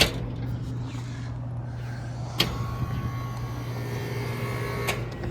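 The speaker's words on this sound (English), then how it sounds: "it's loud because it's a garbage truck" A garbage truck working nearby, heard as a steady low mechanical drone and hum with a couple of sharp clanks and bangs. The sound is moderately loud and continuous, with no voices.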